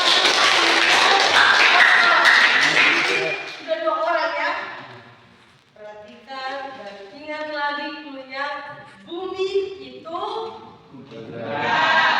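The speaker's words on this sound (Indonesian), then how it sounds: "Kita kasih tepuk tangan." Children in a classroom give a short burst of clapping at the start, loud and close, followed by children's voices and talking.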